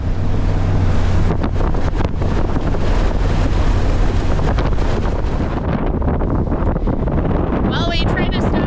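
Strong wind roars through an Alaska winter storm, a loud, continuous buffeting rush with gusts and microphone wind noise, and a faint voice rising briefly near the end.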